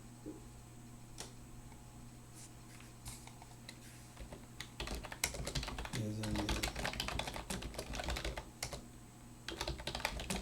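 Fast clicking keystrokes on a computer keyboard as a note is typed, sparse taps at first, then dense continuous bursts from the midpoint on, close-miked over a faint steady hum.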